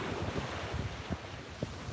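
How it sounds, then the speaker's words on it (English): Ocean surf washes continuously onto a beach at sunrise, a steady broadband roar mixed with wind buffeting the microphone, and no voices. "I thought we could enjoy the sound of the waves together"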